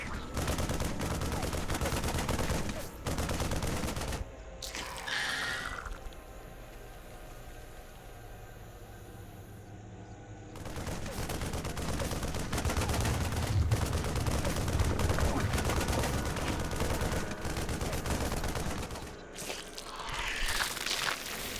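Sustained rapid gunfire and battle noise in StarCraft 2 as a Zerg Hive cluster is attacked, loud and dense for most of the stretch with a short quieter gap in the middle.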